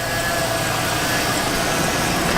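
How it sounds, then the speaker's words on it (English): An LS-swapped Volvo 960 with an exhaust dump runs with a loud, steady, raspy drone that holds constant, close and unbroken throughout. "The exhaust dump still sounds amazing."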